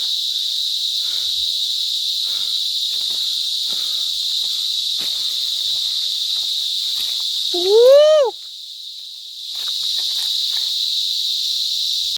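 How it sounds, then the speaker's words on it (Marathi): Loud, continuous high-pitched insect chirring fills the forest on the Gorakhgad Fort trek, broken once by a brief rising whistle-like call before the buzzing resumes. "हे किडे काही गप बसतच नाहीत ओरडूच लागतात डायरेक्ट जोर जोरात"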